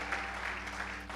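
Members of a church congregation clap together in praise during a sermon, a brief, steady burst of applause filling the hall.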